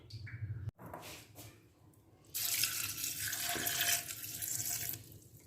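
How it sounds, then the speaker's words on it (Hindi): Water running from a tap into a cooking pot during a Pakistani meat curry preparation, a steady splashing pour that grows louder midway and continues for several seconds, with no talking. "ये हमने 2 गिलास पानी शामिल कर दिया।"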